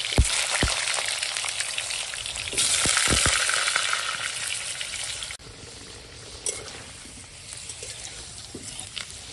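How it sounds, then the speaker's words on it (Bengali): Potato pieces frying in hot oil in a home kitchen, with a loud crackling sizzle that swells for a few seconds and then settles to a quieter, even hiss with scattered pops, no talking. "তেল গরম হয়ে গেছে, এই আলুটা ভেজে নিচ্ছি।"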